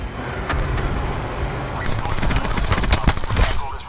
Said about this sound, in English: Crash requesting Thresher strafing run.